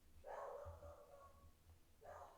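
A dog barks in another room a floor away, heard as two muffled bursts of barking, quiet and distant, with a short pause between them.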